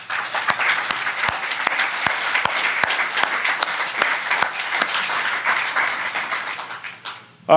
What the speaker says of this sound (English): So a big round of applause for Val.